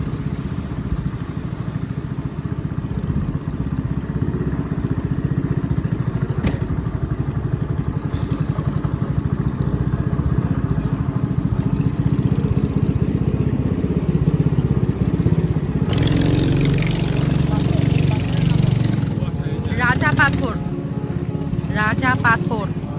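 A motorboat engine drones steadily on the Sangu River in Bandarban, a loud, close and continuous chugging hum that runs throughout, with rushing water noise growing louder in the latter part.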